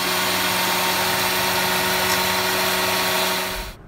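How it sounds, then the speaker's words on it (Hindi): A kitchen mixer grinder blends cucumber juice with added lemon juice, a loud steady motor whir that runs evenly for several seconds before cutting off abruptly. "अब इसको फिर थोड़ा सा ग्राइंड करेंगे।"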